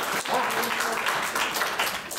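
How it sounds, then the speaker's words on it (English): Audience applause at a Benjamin Franklin character performance featuring an electrostatic generator, a dense continuous round of clapping at moderate loudness lasting the whole short stretch. "give a nice round of applause to the electrostatic generator"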